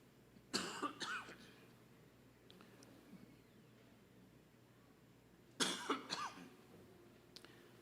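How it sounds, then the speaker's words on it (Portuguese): Two separate fits of coughing from a person with a healing lung infection, each a quick cluster of harsh coughs, with quiet room tone between them. "Vocês me desculpem, eu vou ficar tossindo"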